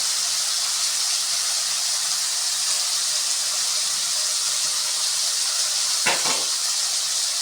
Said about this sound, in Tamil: தக்காளியை சேர்த்துட்டு நல்லா வதக்கிக்கோங்க.